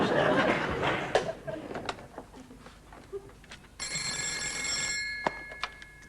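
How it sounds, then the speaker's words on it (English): A telephone ringing in an indoor shop setting, one clear electronic trilling ring over about a second, following muffled chatter and scattered knocks and clicks. "Telephone call for Captain Wagstaff."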